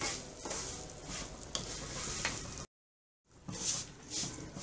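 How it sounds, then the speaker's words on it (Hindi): Lapsi (broken wheat) roasts in ghee over a low flame with a continuous soft sizzle and occasional stirring scrapes, briefly cut by a moment of silence before the frying resumes. "बारीक आंच में इसे भूनिए।"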